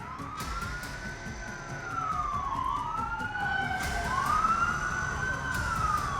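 Wailing emergency siren on a road two blocks from the White House in Washington after a shooting, rising and falling in long sweeps that overlap with a second siren, fairly close over steady traffic rumble.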